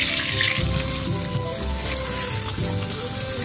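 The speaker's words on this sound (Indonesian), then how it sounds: "Kita tambahkan sedikit air." Water added to a pan of sizzling sambal tumis for nasi lemak, a steady loud frying hiss with a watery splash running throughout, no talking.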